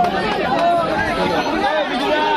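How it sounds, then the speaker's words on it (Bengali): A dense crowd of pilgrims on a packed train during a Kanwar Yatra to Tarkeshwar, voices overlapping in continuous close chatter and arguing over space, a steady babble with no single voice standing apart. "খুব ঝগড়াঝাটি করছে এখানে"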